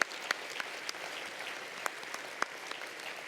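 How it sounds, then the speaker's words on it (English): Faint, distant applause from a cochlear implant conference audience forms a soft, even patter, with a few sharper individual claps standing out. "We can give them a round of applause."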